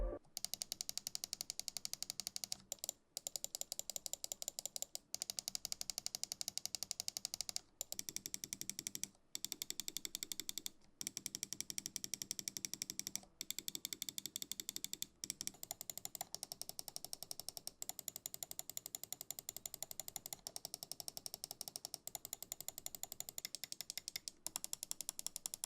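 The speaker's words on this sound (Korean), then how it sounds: "그럼 이번에는 클릭 소리도 각각 비교해서 들어보겠습니다." Button clicks from a series of BenQ Zowie gaming mice, tested one after another, giving a long run of quiet, rapid, evenly repeated mechanical clicks broken by short pauses, close and faint with no voices.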